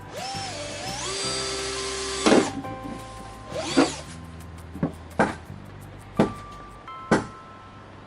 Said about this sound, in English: get me a drill and I will try to make a hole in it